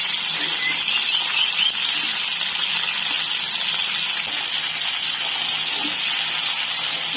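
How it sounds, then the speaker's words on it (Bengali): Catla fish pieces fry in oil, a steady, loud, even sizzling hiss without pause or voices. "আর ঠিক একইভাবে এদিক ওদিক করে মাছগুলো আমি ভালোভাবে ভেজে নেব"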